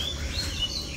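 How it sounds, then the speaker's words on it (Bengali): Birds chirp in a Bangladeshi village in the morning. A few faint, thin tweets sit over a low background murmur during a single brief moment. "সকালবেলায় পাখি কিচিরমিচির করতেছে।"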